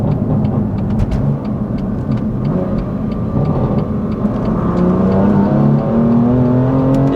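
A tuned BMW M2 Competition with custom map switching launches hard, its engine rising in a loud continuous rev with clear climbing pitch, close and alone without talk.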